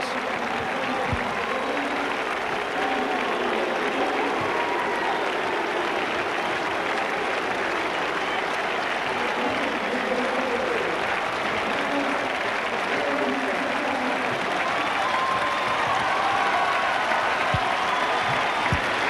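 A rugby league crowd applauds Wigan after their 74–6 Premiership Trophy playoff win over Leeds in 1992. Broad, continuous stadium clapping and crowd noise carry on for nearly twenty seconds, with a commentator's voice running over it.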